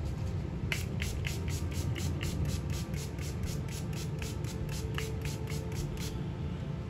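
Rapid repeated pumps of a Too Faced makeup setting spray bottle give short, even bursts of hissing mist, about a dozen in a row, close up.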